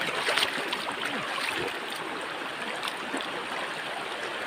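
Fast-flowing cold stream water rushing over rocks, a dense, steady, close roar with bright splashing throughout.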